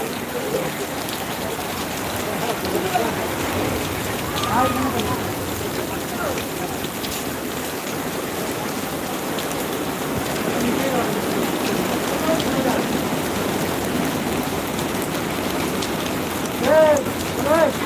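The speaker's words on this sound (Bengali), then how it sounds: "মুসলধারায় বৃষ্টি পড়তে শুরু করেছে" Heavy rain pours down on the beach at New Digha in a dense, continuous hiss, with a few faint voices now and then beneath the downpour.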